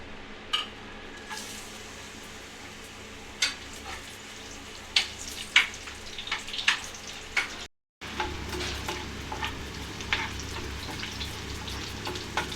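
Chopped onions frying and sizzling in hot oil in a pan for a ridge gourd and sesame lentil curry, a steady close hiss broken by sharp scraping strokes as they are stirred, with one brief gap.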